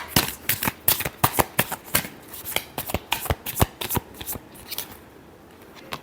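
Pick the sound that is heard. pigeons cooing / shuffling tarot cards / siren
shuffling tarot cards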